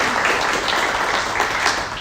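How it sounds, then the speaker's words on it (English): Audience at a housing and mortgage business presentation applauding a guest speaker coming up to the stage, a loud, dense, sustained burst of clapping with no talk over it. "Let's give Sandra a round of applause."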